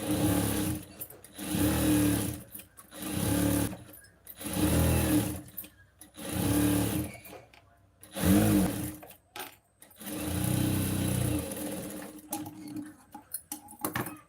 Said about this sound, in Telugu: ఇలా కుట్టిన తర్వాత అనుగుడు కుట్టు అనేది వేసుకోవాలి